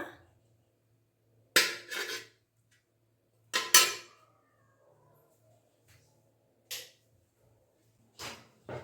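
A cooking pot set down on a kitchen stove gives several sharp metallic clanks and rattles, spaced apart by quiet pauses, close and clear with no talking.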